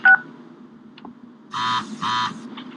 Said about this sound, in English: It's a text message from Bruno